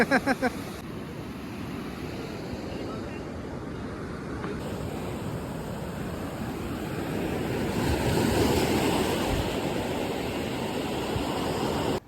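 Sea waves wash steadily onto a beach with a broad, rushing roar that swells toward the middle, mixed with wind buffeting the microphone.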